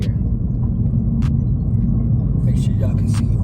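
A manual-transmission car cruises in third gear with a low, steady engine rumble filling the cabin. A few faint clicks and rattles sit over it, and no one talks.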